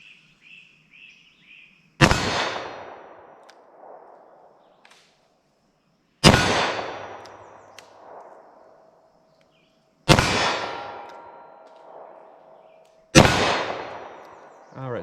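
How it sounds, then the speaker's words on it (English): A short-barreled revolver fires Corbon DPX .357 Magnum rounds single action: four loud, sharp cracks spaced a few seconds apart, each ringing out and fading before the next. "I'm gonna fire single action here."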